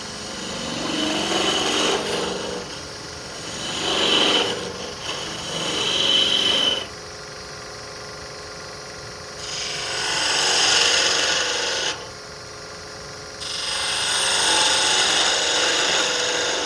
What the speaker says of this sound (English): Just a little bit of back hollowing here.